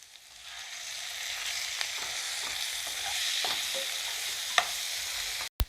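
Paneer, tomato and spice masala frying in a pan for a capsicum paneer dry masala, a steady close sizzle with intermittent scraping stirs and a few sharper clinks, alone without voices.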